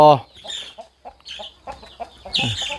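Young farm chickens, around one to three months old, clucking close by in a steady series of short calls, with a louder squawk near the end.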